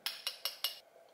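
A metal spoon clinks four times against a glass while stirring L-glutamine powder into a drink, quick evenly spaced taps, close and quiet, then a faint trailing scrape.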